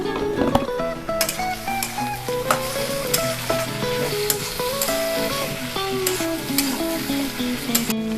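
Cashews, tomato and salt fry in a pan for chicken curry. A loud, continuous sizzle is broken by sharp clicks and scrapes of stirring, with a melodic backing running underneath.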